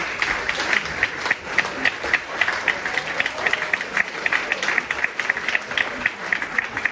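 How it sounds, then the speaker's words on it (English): A room of Celtic supporters at a club anniversary applauds as the European Cup is carried through, with steady, fairly loud crowd clapping throughout and a rhythmic, almost unified patter. "So just round of applause for that as well."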